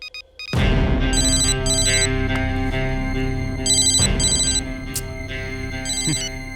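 Mobile phone ringtone blaring loud and close, a bright electronic melody repeating in regular bursts with sustained tones underneath, with no voices.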